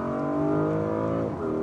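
Biturbo V8 of a 2024 Porsche Cayenne S revving with a steady, loud, close engine drone whose pitch shifts near the end of the short burst, with no voices.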